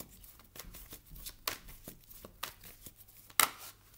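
Tarot cards riffled and shuffled by hand in a quiet room, a series of soft papery flicks and riffles with a sharper card slap near the end, close and alone without talk.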